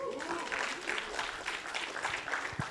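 Audience at a national quiz semi-final applauds team IIM Kolkata, a short burst of steady rhythmic clapping heard from a moderate distance, fairly quiet with a faint voice underneath.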